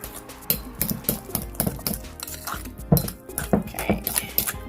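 A whisk mixing banana coconut bread batter in a bowl, giving rapid, rhythmic clinks and taps against the sides, loud and close, with steady repeated strokes throughout.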